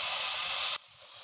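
Small red onions sizzle in hot coconut oil in a pan for a Kerala mackerel chilli curry. A loud, steady hiss of frying cuts off sharply partway through, then returns quieter.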